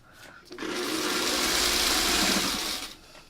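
A sewing machine runs steadily for about two seconds, stitching pieces of a tumbling star quilt along a Y seam, close and fairly loud, starting and stopping cleanly with no talking over it.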